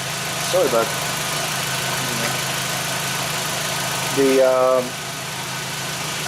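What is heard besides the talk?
2001 Audi Quattro engine idling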